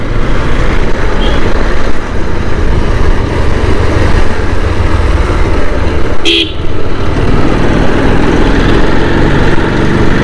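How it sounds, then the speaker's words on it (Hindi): A motorbike engine drones steadily and loudly while riding at around 30 to 40 km/h on an empty road, with wind rumble throughout and a short horn toot partway through. "बाइक की स्पीड अपनी 30-40 के आसपास चल रहे हैं, ज़्यादा तेज़ नहीं चलेंगे"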